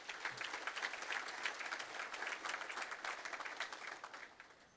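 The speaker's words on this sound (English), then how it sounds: "Can we please give all of our sponsors a big round of applause?" Audience applause for sponsors at a regional chamber annual meeting, a steady round of clapping from a crowd in a hall, moderately distant and fading slightly at the end.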